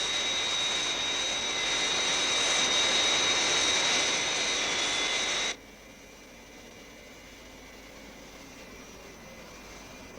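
Steady broadband roar of a jet airliner in flight, freshly climbing out after takeoff bound for Tokyo, loud and continuous for about five seconds before dropping abruptly to a quieter, duller hum.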